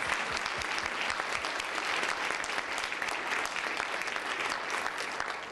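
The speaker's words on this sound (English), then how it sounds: "Congratulations, your 2018 board. Let's give them a round of applause." An audience at a board installation ceremony applauds the newly installed 2018 board, dense, sustained clapping that holds steady throughout.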